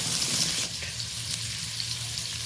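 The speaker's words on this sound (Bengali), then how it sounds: "ডুমো ডুমো করে কেটে রাখা আলুটা এবার বেশ ভালো করে ভেজে নেব।" Diced potatoes frying in hot oil, producing a loud, dense crackling sizzle near at hand that eases slightly after a moment and then continues steadily.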